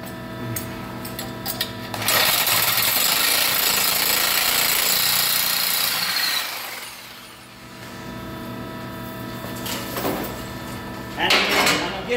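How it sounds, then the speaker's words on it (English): A cutting tool works through an exhaust hanger on a Chevy Traverse during a rear catalytic converter and flex pipe job. It gives a loud, harsh grinding burst lasting about four seconds, followed by shorter bursts near the end. "But let's cut this hanger off."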